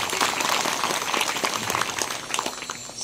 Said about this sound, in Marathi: महाराजजींकरता एकदा सर्वांनी जोरात टाळी वाजवा.